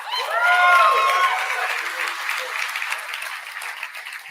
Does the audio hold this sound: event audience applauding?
yes